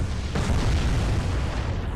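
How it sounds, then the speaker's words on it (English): Torpedoes strike a battleship's rear quarter in the naval video game Atlantic Fleet, giving a heavy, continuous booming explosion with deep rumble that swells and holds for about two seconds. "3 torpedoes struck on the rear quarter"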